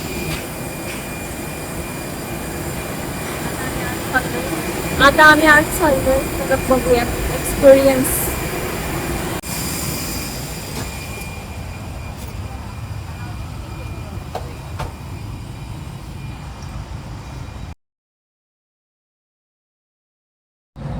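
Steady engine roar and broadband cabin noise inside an IndiGo airliner, continuous for most of the clip with a few louder rattling bumps, under a person talking, before cutting to silence near the end.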